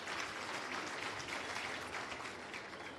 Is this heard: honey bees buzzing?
no